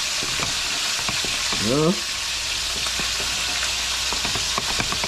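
Cornmeal seasoned in coconut milk is stirred and pressed against the side of a pot to break up lumps, giving a steady wet scraping and sloshing with soft knocks, and a brief voice speaks partway through.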